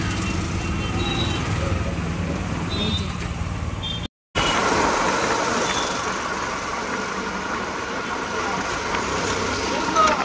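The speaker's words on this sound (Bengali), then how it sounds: "উঠে পড়েছি অটোতে।" Auto rickshaw ride near the Baruipur rail gate, with a steady engine hum and road traffic noise running throughout, briefly cut out once, while voices talk faintly in the background.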